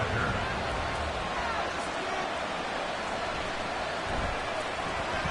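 Steady rain hiss in a football video game fills the whole stretch, a dense even wash of falling drops with a faint crowd murmur underneath.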